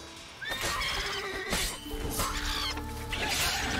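A horse in The Witcher 3 lets out a neigh and snorts amid clattering hooves and scuffling game sounds, moderately close and without talk.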